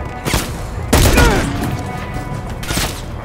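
Gunfire in Call of Duty: Modern Warfare 3 during a ship assault, loud bursts of shots and booms in several separate volleys, with a voice briefly heard between them.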